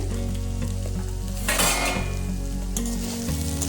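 Potatoes and chopped banana flower stirred in a pan of hot oil, a steady sizzle under scraping spoon strokes with a brief louder burst of frying midway, close and continuous with no voices.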